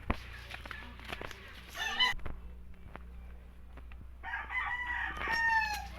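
A rooster crows at a rural provincial home, with loud, harmonic calls at about two seconds and again from four to six seconds over steady low background noise and scattered clicks.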